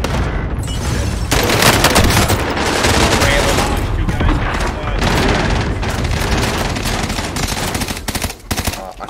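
Dense rapid bursts of gunfire crack loud and continuous through a Call of Duty: Warzone firefight, with burst-fire weapons and booming impacts layered under occasional voices.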